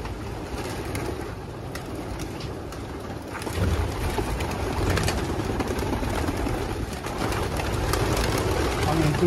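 Many racing pigeons at a test loft of nearly 2,700 birds, a dense continuous murmur of cooing and wing rustle with faint background noise, no talk.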